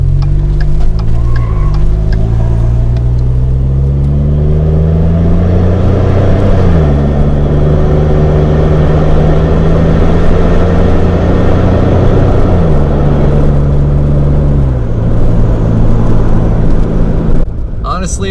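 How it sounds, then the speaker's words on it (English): Truck with a budget aftermarket exhaust driving, a loud droning engine note rising and falling through gear changes, steady and close throughout. "I like this so much better than the stock exhaust"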